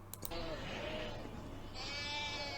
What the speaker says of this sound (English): Oh, it's sheep.